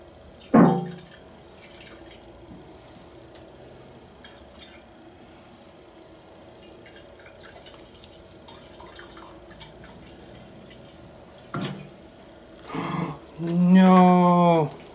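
Fuel dripping from a leaking antique Coleman lantern, a single sharp drip early on followed by quiet hissing background and a few brief knocks and a short squeaky sound near the end.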